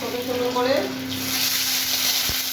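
Cinnamon, cardamom and bay leaf spit in hot oil in a home kitchen, a steady close sizzle with a few crackles. A voice murmurs briefly near the start, and a faint steady hum runs beneath.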